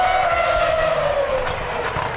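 A Formula 1 car braking hard at the Circuit Gilles Villeneuve gives a short, loud engine whine that drops steadily in pitch as it slows, with a rough tyre-scrub rumble beneath.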